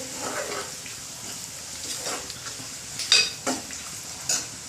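Red chili powder stirred into hot frying oil for a prawn rice dish, a spatula scraping the pan in soft intermittent strokes over a faint steady sizzle, with a few sharper clinks near the end.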